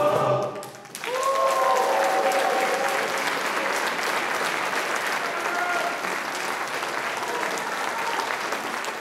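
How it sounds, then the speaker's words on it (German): A concert audience at a choir performance applauds enthusiastically, sustained dense clapping that stays loud and steady for several seconds, with faint sung or voiced tones threaded through. "Das Publikum klatschte und sang begeistert mit und spendete frenetischen Beifall."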